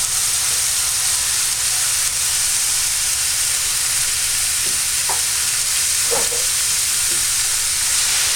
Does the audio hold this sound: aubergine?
yes